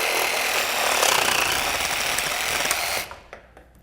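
A Sawzall reciprocating saw cuts through PVC pipe with a loud, steady buzzing rasp for about three seconds, then stops abruptly, leaving a few faint clicks.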